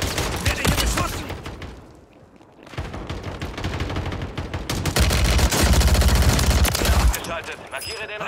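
Sustained automatic gunfire in Call of Duty Modern Warfare 3 Warzone, rapid overlapping shots loud and near, briefly easing before a heavier continuous barrage.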